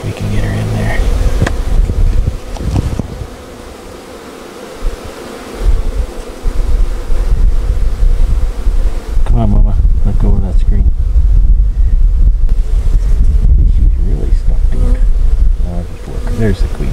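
Honey bees buzz loudly and steadily at an open hive in an apiary, with wind rumble and handling noise throughout and a person talking partway through.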